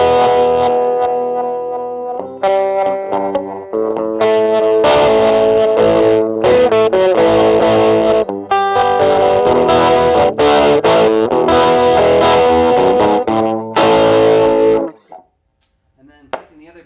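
An 1980s Cort Effector electric guitar plays through its built-in modulation effect set to a slow speed. Loud, chorus-like distorted chords and picked phrases repeat steadily, then stop abruptly near the end, leaving near silence.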